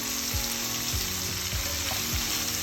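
Squid pieces hit a pan of hot gravy and sizzle steadily, a dense, even frying hiss running throughout with a few soft thuds as pieces go in; no voices.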